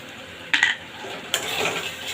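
Spoon scraping and stirring a Bengali curry of lentil dumplings and pointed gourd, sautéing in oil with sugar in a pan; two sharp scrapes stand over a steady low sizzle, close and alone.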